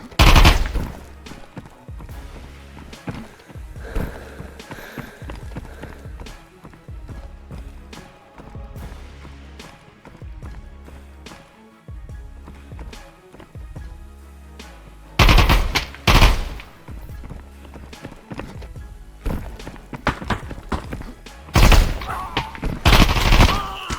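Repeated bursts of automatic gunfire in an Exfilzone firefight, dense rapid shots through most of the stretch with louder close volleys near the end, no talk.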